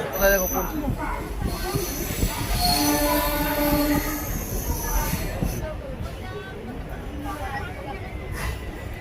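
A local train rumbles into Bhubaneswar station with squealing wheels and screeching brakes, loud and close, easing off over several seconds as people talk nearby.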